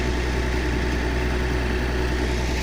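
A tractor pulls a three-metre disc harrow across a field, its engine a loud, continuous low drone with steady rumbling and no breaks.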